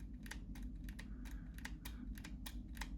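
Rapid dry clicks from the crunchy trigger pull of an S&W M&P Shield Plus 9mm pistol, about a dozen close, irregular ticks in quick succession over a low hum.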